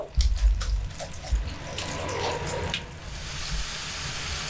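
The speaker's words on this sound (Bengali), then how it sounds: "এর মধ্যে আবারও একটু পোস্ত বাটি ধুয়ে জল দিয়ে দিচ্ছি।" Water is poured into a bowl of poppy seed paste to rinse it out while an eggplant malai curry cooks. The clip opens with a close, splashing gush that settles into a softer, steady trickle.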